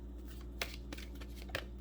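Tarot-style love reading cards are shuffled in a short, faint burst, with a couple of soft slaps of card edges over a low steady hum.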